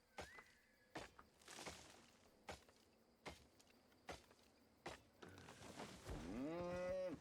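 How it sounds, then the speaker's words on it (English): Cow mooing in the MMORPG Albion Online: a long, low, drawn-out moo rises at the end, following several soft thumping footsteps, fairly quiet overall. "Moo."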